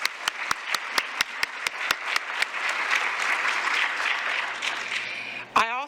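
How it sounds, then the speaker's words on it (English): Audience at the Nashville Conference on African American History and Culture applauds, starting with a series of single sharp claps that grow into sustained dense clapping, then fade near the end. "Could I have a round of applause for those folks?"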